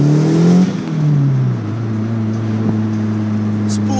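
Turbocharged car engine running at about 14 psi of boost with a stock blow-off valve, revving up with a rising then falling pitch before settling into a steady, loud drone close by.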